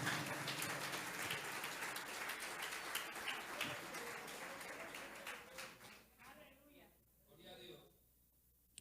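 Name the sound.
congregation applause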